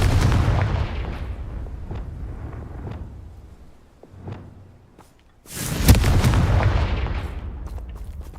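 A Confringo fire-spell blast in the video game Hogwarts Legacy lands as a few loud booming explosions, with a sharper burst near the middle and rumbling fallout afterward.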